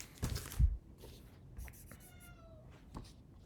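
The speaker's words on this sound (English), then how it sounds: "oh, the cat wants to get in" A cat meows at a door, wanting to be let in, giving a drawn-out meow amid soft rustling and handling noises, fairly faint and close.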